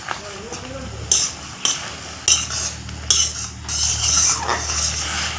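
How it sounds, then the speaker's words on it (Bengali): Drumstick leaves being turned in a pan after light boiling, a utensil scraping and clanking against the metal in several sharp strokes over a soft sizzle, with no talk. "সজনে পাতা দিয়ে উল্টো পাল্টা করে একটু নাড়াচাড়া করে নিচ্ছি"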